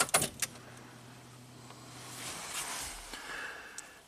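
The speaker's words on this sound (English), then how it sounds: "So I'll take key on again." A car key jangles and clicks as it turns to the ignition-on position, a few sharp metallic rattles at the start followed by a faint steady electrical hum as the car's systems wake.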